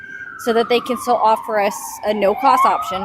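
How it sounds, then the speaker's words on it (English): Ambulance siren wailing behind someone speaking, its steady rising-and-falling tone running through the full three seconds at moderate loudness under continuous talk. "that's the ambulance sound."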